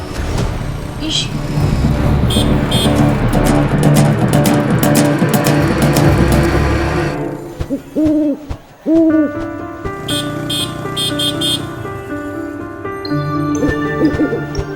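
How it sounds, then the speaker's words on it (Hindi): An owl hoots a few times in a spooky Indian ghost drama scene, the calls standing out after a stretch of dense music and sound, with some jingling and talk-like sounds around them. "ये उल्लू हमारे पास आया है"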